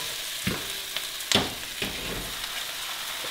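Chicken bones for ramen broth sautéed in a pan: a constant soft sizzle with a few scraping stirs, one louder clattering stroke among them, close by and without talk.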